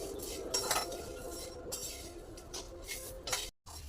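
Whole spices roasting for homemade garam masala clink and scrape against a pan as they are stirred now and then, in soft irregular metallic taps over a quiet hiss, with no talking.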